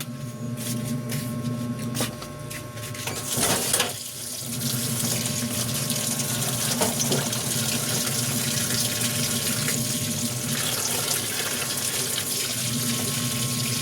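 Steady water runs from a tap for the whole stretch, a constant close rushing with a brief clatter near the start.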